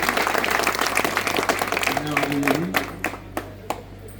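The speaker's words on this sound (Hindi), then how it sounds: "अध्यक्ष प्रदीप अग्रवाल जी, एक बार जोरदार तालियों से आपका स्वागत।" An audience at a Republic Day gathering applauds to welcome the association president, a dense burst of clapping that thins out into a few scattered last claps.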